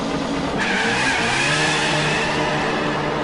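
A drag racing car skids on the Saraçoğlu drag strip in Konya, a loud continuous tire squeal over a roaring engine for the full three seconds, with no voices.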